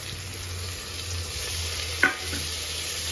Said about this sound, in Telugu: ఇవి మంచిగా ఫ్రై కావాలి.